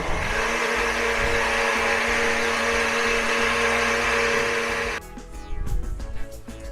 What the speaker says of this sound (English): So I'll add more to the blender.